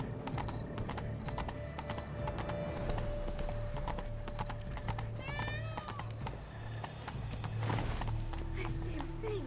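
A horse in the video game The Witcher 3: Wild Hunt, Blood and Wine, clip-clops steadily at a brisk pace over continuous game ambience, with a whinny and faint character voices now and then.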